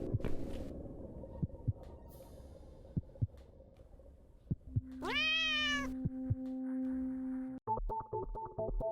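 A cat meows within The Cat Lady video game, a single rising, drawn-out cry standing clearly above low droning game music and scattered soft thumps.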